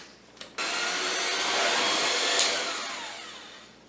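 An electric mixer whirs steadily through thick chocolate buttercream, starting abruptly after a brief clatter and holding a loud, even motor drone before easing off slightly at the end, with no talking.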